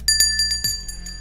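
Bells ring out several times in quick succession at close range, bright sustained tones with strikes roughly every fifth of a second, ending a Yankees baseball recap show.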